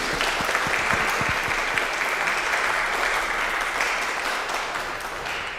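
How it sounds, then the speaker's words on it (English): A gathering applauds Justine after a talk on climate and conflict, with steady, full clapping from a sizable audience that holds evenly and fades slightly at the end. "let's give Justine a round of applause for facilitating our communication"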